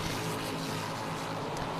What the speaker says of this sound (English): Those 2 very similarly liveried race cars working their way through the chicane there at turn 3.